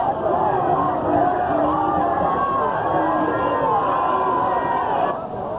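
A moving crowd of protesters at 42nd Street in New York City, herded by police toward Bryant Park, makes a dense, steady roar of voices and footsteps. The noise is loud and unbroken throughout.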